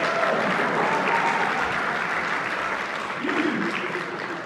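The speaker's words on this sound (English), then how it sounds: "even though you're applauding that" Steady applause from a comedy club audience in Eindhoven fills the room, a dense continuous patter of many hands at even loudness throughout.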